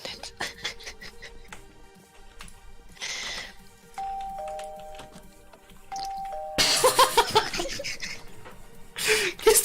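An indoor doorbell rings again and again, with bright two-tone chimes sounding repeatedly in quick succession while people laugh and talk around it, growing louder and busier toward the end.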